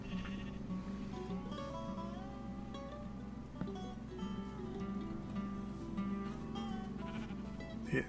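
Sheep in Minecraft bleating repeatedly, several overlapping wavering bleats over a steady low background hum, moderately quiet, with no voices.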